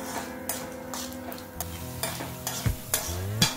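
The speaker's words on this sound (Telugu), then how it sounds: "వేరుశనగ పప్పు అలాగే ధనియాలు, జీలకర్ర, వెల్లుల్లిపాయ రెబ్బలు, ఎండుమిర్చి వేసుకుని 2 నుంచి 3 నిమిషాలు ఫ్రై చేసుకోవాలి।" Peanuts, coriander seeds, cumin, garlic cloves and dried red chilies fry in hot oil, a steady close sizzle broken by repeated scraping stirs of a spoon against the pan, with no voices.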